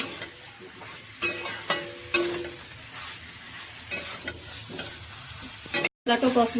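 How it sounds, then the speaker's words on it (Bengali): Spice masala with potato and cauliflower being sautéed in a pan, a continuous sizzle broken by repeated scraping stirs and a few sharp utensil knocks against the pan, close and fairly loud. "সুন্দর করে কষিয়ে নিতে হবে, আরও 5 মিনিট কষিয়ে নিতে হবে।"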